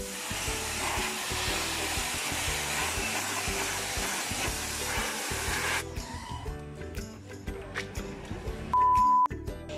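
A loud, steady motor whir like a vacuum cleaner runs for several seconds, then cuts off, leaving quieter clicks and a short beep.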